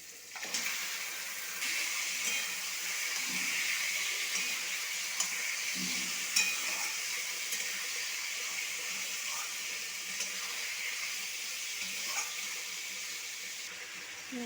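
Chicken pieces added to a pan of fried spice paste sizzle in oil with a steady, hissing crackle that holds evenly throughout, fairly quiet, with faint stirring noises.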